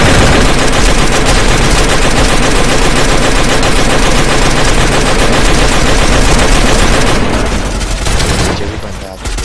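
Sustained automatic gunfire in the Free Fire battle royale game, fired toward an enemy up in the hills; loud, dense bursts of rapid shots run almost continuously before thinning out near the end.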